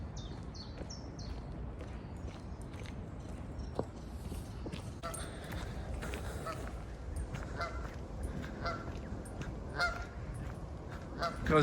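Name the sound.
geese honking by a canal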